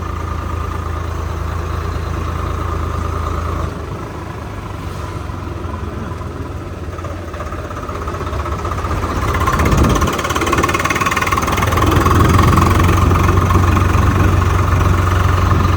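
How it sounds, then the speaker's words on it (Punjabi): A heavy diesel tractor engine idles with a steady low rumble throughout, growing somewhat louder and rougher in the second half as it seems to draw nearer. "ਇੱਕ ਉਹ ਦੂਸਰਾ ਟਰੈਕਟਰ ਆ ਗਿਆ"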